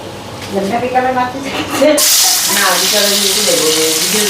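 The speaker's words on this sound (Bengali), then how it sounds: "তো মাছগুলি ভালো করে ভেজে নিই।" Fish pieces seasoned with salt and turmeric drop into hot oil, with a loud, steady sizzle starting partway through while a voice talks over it.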